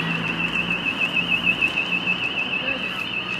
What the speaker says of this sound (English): You can hear the burglar alarms going off.